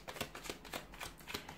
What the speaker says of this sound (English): So we'll give the cards a shuffle